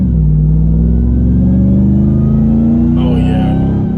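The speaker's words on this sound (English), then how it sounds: "So let's see if we can hear the whine." A Ram TRX truck on a back road, its engine giving a loud close rumble and rising whine as it accelerates, steady and droning throughout.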